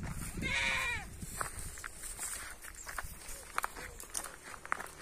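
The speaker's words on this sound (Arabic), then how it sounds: "ماعز" Goats bleating in a green mountain pasture in the Rif hills near Tetouan, one loud bleat near the start and then fainter calls over scattered footsteps and rustling outdoors.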